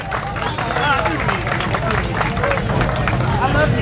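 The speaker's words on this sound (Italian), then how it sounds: "facciamo un altro applauso!" Crowd applause at a rally awards ceremony in Cellole, a steady dense wash of clapping mixed with babble and scattered voices, loud and continuous throughout.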